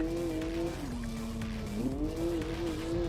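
A race car drifting on a snow-covered track in Assetto Corsa, its engine holding a steady, close whine whose pitch dips and climbs again as the car slides, over a constant rushing roar.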